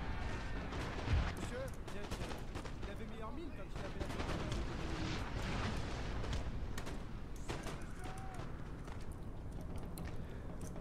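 Artillery fire in Napoleon Total War, repeated booms and scattered cracks of cannon and musketry rolling through a busy battle din, moderately distant and steady throughout.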